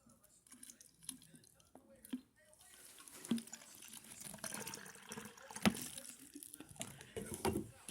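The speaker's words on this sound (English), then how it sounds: "see how much water did it fill" Water splashes and trickles into a squirt-top bottle being filled for a homemade cleaner, quiet and uneven with bursts of pouring and handling noises close by.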